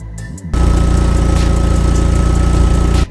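An Audi TT engine idles steadily with a low, even mechanical hum, starting abruptly after a brief quieter moment and continuing close and loud.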